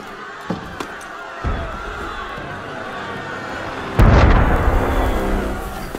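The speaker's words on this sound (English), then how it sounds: "That was cannon fire." Cannon fire in the Assassin's Creed Unity video game: a heavy, loud boom bursts in partway through and its rumble sustains to the end, preceded by a few small distant thuds and crowd murmur.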